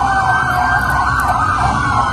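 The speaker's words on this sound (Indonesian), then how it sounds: "itu pakai kendaraan khusus itu, pakai sirine begitu ya kan ya" A special vehicle belonging to the Attorney General's office sounds its siren, a loud, continuous wailing tone rising and falling over the rumble of road traffic, heard from a played recording.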